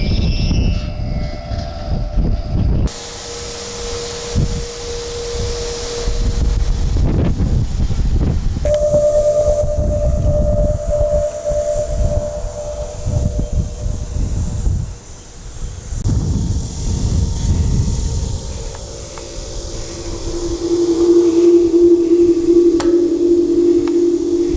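Wind sounding an Aeolian harp of the Sturgeon model outdoors in Newalla, Oklahoma, giving sustained, shifting drone tones that rise and fall in pitch, swelling into a steadier, louder hum near the end, with no talking.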